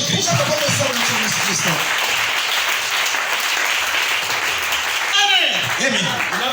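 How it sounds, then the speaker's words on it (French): A church congregation in a tabernacle breaks into dense, sustained applause, loud and continuous throughout, while a voice keeps speaking over the clapping. "Acclamez le Seigneur Jésus-Christ."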